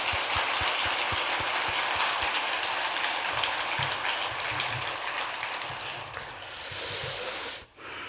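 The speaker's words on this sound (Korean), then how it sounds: "여러분들 크게 박수 한번 쳐드리세요." Large audience at a Korean Buddhist temple dharma assembly applauds the student monks, a dense continuous wash of clapping held steady for several seconds before cutting off near the end.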